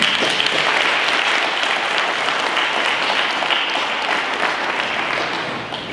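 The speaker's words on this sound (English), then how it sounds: "I want to hear a round of applause for him." Loud, sustained applause from a large audience, a dense wash of clapping that holds steady throughout.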